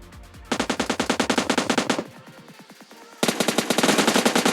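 Rapid automatic gunfire in a battle royale video game, two loud, close bursts of evenly spaced shots with a short quieter gap of fainter shots between them.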